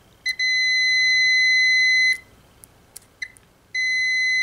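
Multimeter continuity beeps as the test leads touch: a short chirp, then a long steady high-pitched tone for about two seconds, a few brief clicks, and another steady beep starting near the end.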